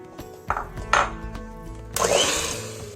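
Butter and sugar are beaten together for a mandarin orange cake batter, a few close clinks and knocks against the bowl followed by a louder whirring mix that swells in and carries to the end.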